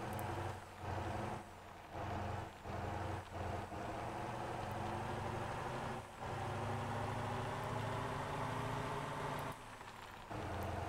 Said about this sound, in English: I shouldn't be revving it up that high